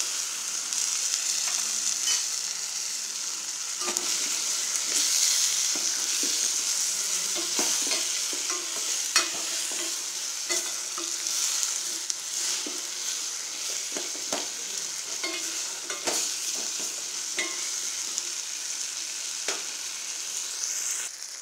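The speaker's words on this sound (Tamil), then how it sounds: "ஒரு 2 நிமிஷம் தக்காளி வெங்காயம் வணங்கட்டும்." Tomato, onion, drumstick and brinjal sauté in a pan for sambar, a steady close sizzle with frequent clinks and scrapes of stirring, and no talk.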